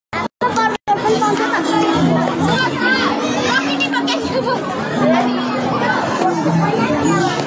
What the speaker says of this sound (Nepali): यहाँ झन् भिड रहेछ माथि भन्दा पनि